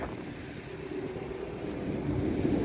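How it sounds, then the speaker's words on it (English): Airplanes fly overhead near a farm shed, a steady broadband engine drone that holds at a moderate level and swells slightly toward the end, with no voices. "there was a plane, there was 4 planes!"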